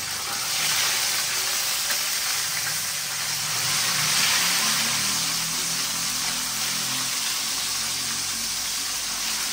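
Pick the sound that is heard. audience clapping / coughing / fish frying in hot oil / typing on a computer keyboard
fish frying in hot oil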